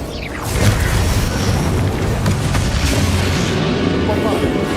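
Bombarda blasting spell explosions in Hogwarts Legacy, a loud booming blast with rumbling debris that rolls on under shouted spell incantations and combat noise.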